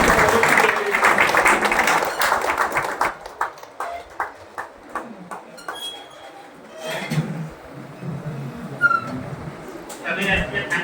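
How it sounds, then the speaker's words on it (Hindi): Audience applause at a team training session, a burst of clapping that fades into scattered claps with light clinks and background chatter. "तालियों के कड़कड़ाहट के साथ"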